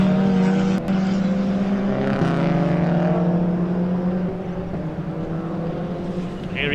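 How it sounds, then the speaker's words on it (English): A race car engine drones steadily as the car comes into the pits during a BARC circuit race, a sustained tone that shifts pitch slightly and eases off toward the end. "Here he comes then, and surely Andrew Bentley is going to peel off this time."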